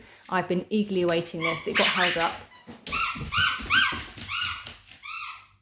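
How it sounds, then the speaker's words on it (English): A dog whimpers and yelps in a room, a run of high squeaky cries and short barks following a woman's speech, close and fairly loud. "That's my dog, sorry."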